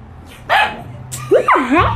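A dog gives a few sharp yips and whining barks in quick succession, loud and close, heard in a short burst with no talk over it.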